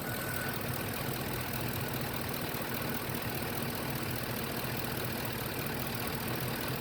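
A 2006 Ford F150 engine idles steadily throughout, a continuous close rumble with a faint knocking texture and no talk over it.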